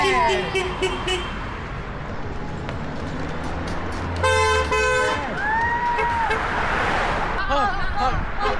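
Car horns honking from passing traffic on a roadway, several short toots and one longer blare amid engine and traffic noise, with people cheering and calling out over it.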